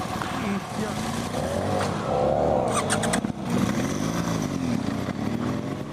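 A 2017 BMW R1200 GS Rally motorcycle engine revs and pulls away in uneven surges, rising and falling close by, with a brief dip mid-way.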